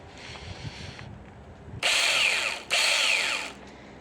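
A cordless mini chainsaw, the START PRO SBS2-21/6MBX, whines in two loud, sustained bursts of cutting after a quieter idling stretch, the motor pitch bending as it bites.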